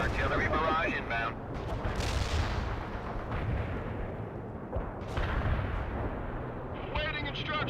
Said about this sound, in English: Call in the strikes danger close, Parker. Fire mission received. Artillery barrage inbound.